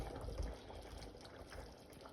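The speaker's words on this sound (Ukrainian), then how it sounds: "Все ж таки я вирішив ще трошки води додати." Water added to a pot of plov cooking on the stove, a soft, quiet splashing and trickling pour heard alone for a couple of seconds with a faint bubbling underneath.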